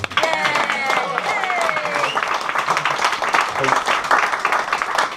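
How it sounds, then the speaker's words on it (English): Wedding guests break into loud, sustained applause at a reception toast, with cheers and voices mixed in among the clapping. "I think that deserves another round of applause"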